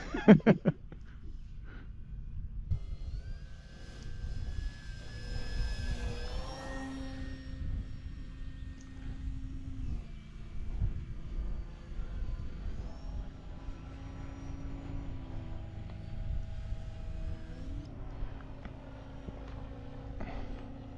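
A small propeller plane's engine drones steadily during takeoff, its pitch climbing and shifting as it gathers speed, with a low rumble underneath throughout.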